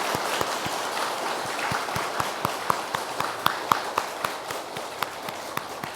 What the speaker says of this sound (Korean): 스님께 박수 한번 보내드리십시오.